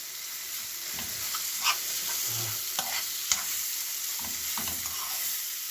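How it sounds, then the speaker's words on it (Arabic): A spoon stirs sizzling savory vegetable quiche filling with cheese in a pan, steady frying hiss with repeated scrapes and clicks against the pan, close and moderately loud, with no talking. "صافي غادي نخلطوها مزيان حتى تجانس هذا الفرماج مع هاد الحشوه هذه كامله"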